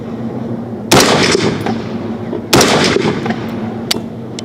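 Ruger SFAR .308 rifle fired at an outdoor range, two sharp loud shots about a second and a half apart with echoing decay, then a faint distant report, with no talking.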